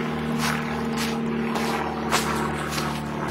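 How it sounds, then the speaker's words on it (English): A single-engine plane flies overhead near a small airport in Fitchburg, its steady propeller drone carrying through the whole stretch at a fairly loud, even level with no voices. "Above you can hear a single engine plane."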